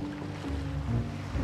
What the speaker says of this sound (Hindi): समुंदर में से पानी आ गया।